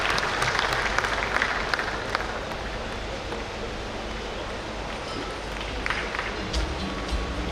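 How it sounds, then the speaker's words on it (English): An audience at a Rotary district conference in Mangaluru applauds a pair of award recipients, giving a continuous broad patter of clapping that swells slightly at the start and end, heard from within the hall. "Let's give a round of applause to Sanjay and Pat."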